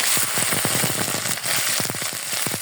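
Potato and cauliflower bhaji frying in a pan, a steady close sizzle with a rapid run of sharp crackles and pops throughout.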